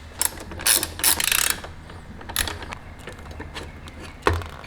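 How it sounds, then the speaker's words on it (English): A 10mm ratcheting wrench loosens the servo motor bolts on a 2019 Kawasaki Ninja ZX-6R, producing short bursts of rapid pawl clicking close by, separated by brief pauses and a final metallic knock. "I'm going to use a 10mm wrench here to pull the servo motor assembly out first"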